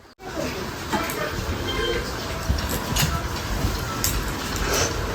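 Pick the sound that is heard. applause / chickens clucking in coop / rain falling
rain falling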